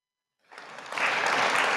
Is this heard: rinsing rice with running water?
no